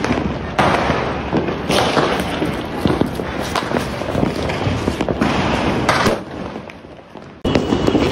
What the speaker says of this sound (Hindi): इतना बड़ा बम नवीन भैया ने अभी तक जलाया नहीं है गाइस